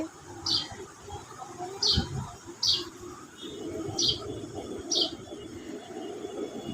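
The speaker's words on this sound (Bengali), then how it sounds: "এই যে আমার চড়ুই পাখিটা, ইনি প্রায় এখানে এসে ডাকাডাকি করে" A house sparrow in a garden gives five short, bright chirps at roughly regular intervals over faint outdoor background noise.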